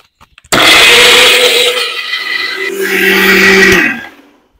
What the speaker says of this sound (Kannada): ಸ್ವಲ್ಪ ನೀರನ್ನ ಸೇರಿಸಿ ಇದನ್ನ ನುಣ್ಣಗೆ ರುಬ್ಕೊಳ್ತೇನೆ